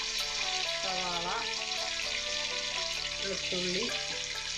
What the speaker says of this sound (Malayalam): എല്ലാം കൂടി ഇട്ട് നമുക്കൊന്ന് വഴറ്റിയെടുക്കാം